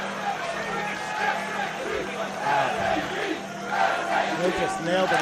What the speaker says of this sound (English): To the approval of the New York City crowd.